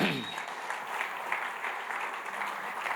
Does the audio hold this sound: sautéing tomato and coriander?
no